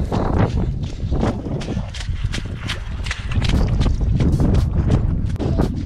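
Strong wind buffets a microphone outdoors in sideways rain, a loud continuous rumbling roar with gusty surges and crackling pops from start to finish, thudding footsteps mixed in beneath it.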